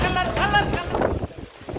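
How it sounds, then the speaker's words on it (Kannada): Strong wind buffets the microphone at a hilltop viewpoint in Madikeri, a loud, continuous rushing roar with gusty swells across the whole stretch. "ಗಾಳಿ ಅಂಚೆ ಉಂಡು ತುಲೆ ಭಯಂಕರ ಫೋರ್ಸ್ಡ್ ಉಂಡು"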